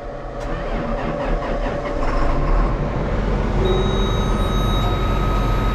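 A farm tractor engine idles steadily while warming up, a constant close rumble with a slight rise in intensity partway through and no talk over it.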